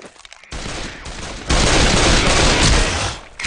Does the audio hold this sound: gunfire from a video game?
yes